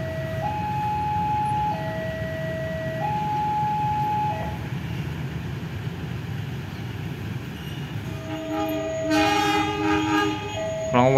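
A CC 201 diesel locomotive in RnB livery shunts back and forth at Lempuyangan station, its engine droning steadily while a two-tone horn sounds, then a higher multi-tone horn blares near the end.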